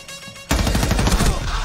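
A sudden burst of rapid gunfire from a first-person shooter, loud and close, starting abruptly after a quiet moment and rattling on as a dense flurry of shots.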